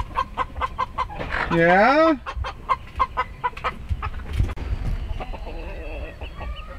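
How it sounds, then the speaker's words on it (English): Hens in a coop cackle loudly and repeatedly close by, one rising squawk standing out, while a person speaks briefly among the clucking. "We got a lot of cackling going on in here."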